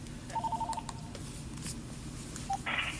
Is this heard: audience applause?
no